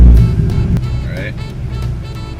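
A 1953 Chevrolet Bel Air engine idles close by with a low rumbling, uneven tone, and a sharp mechanical click partway through.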